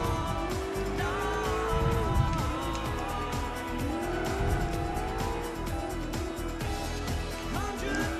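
Racing car engine in a video game, a continuous revving whine with rising and falling pitch sweeps as gears shift, loud and steady throughout with faint talk mixed in.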